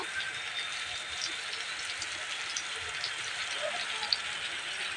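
A paste of onion, ginger and garlic sizzles in hot oil in a pan, a soft, even hiss with faint crackles that holds steady throughout, fairly quiet.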